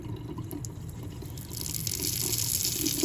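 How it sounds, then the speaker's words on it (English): Tap water runs in a steady stream near a spoon held in the flow, and the rush swells louder partway through as the flow is turned up, alone without talk. "Now if I turn the water up a little bit,"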